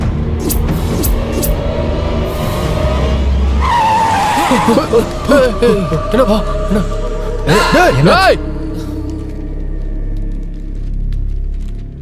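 A car's tires squeal in two sharp skids, then the engine roars as the car drives off, all set in a dramatic scene with a busy soundtrack behind it.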